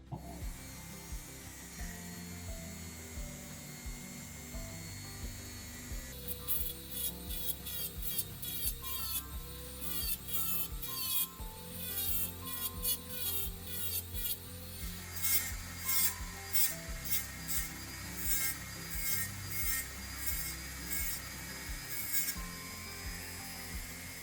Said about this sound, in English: Next thing we need to now slice off these heads right here.